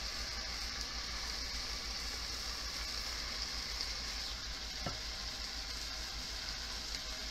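Chicken karahi cooks in a pot after tomatoes go in, with a faint, steady sizzle and gentle frying hiss. One brief tap sounds partway through.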